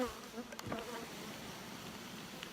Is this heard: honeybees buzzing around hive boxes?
yes